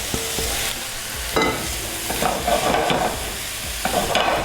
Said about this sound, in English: And then I'm going to add my mushrooms.